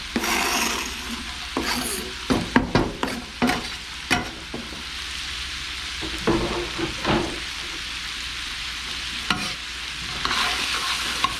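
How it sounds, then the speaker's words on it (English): Garlic being stirred into a pot of turkey and andouille sausage gumbo: continuous low sizzling with a cluster of clattering spoon scrapes and knocks against the pot, then quieter stirring, close up without speech. "Give that a good stir around."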